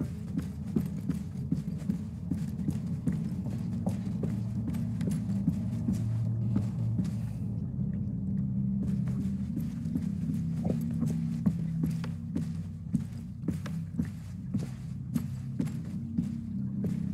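Loud, steady footsteps of the player character in the video game Bramble The Mountain King, a regular thudding tread over a low droning hum, with sharper clicks scattered throughout.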